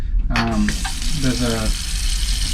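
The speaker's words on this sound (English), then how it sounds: "you can kind of hold the water down and it comes straight down out of the faucet" Tap water pours steadily from a faucet into the sink of an Amtrak California Zephyr train bathroom, a continuous close rushing hiss that runs the whole time while someone talks over it.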